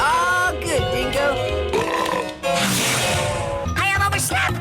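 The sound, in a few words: cartoon alien burping after drinking soda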